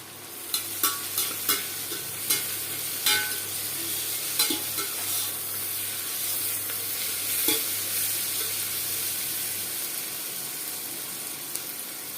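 Salted onions fry in a pan for a desi-style jackfruit curry. A steady low sizzle runs throughout, broken by a series of sharp spoon scrapes and taps against the pan, all without speech.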